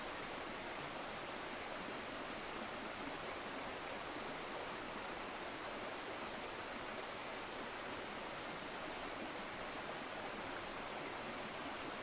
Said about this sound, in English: The sound of the creek is just so relaxing.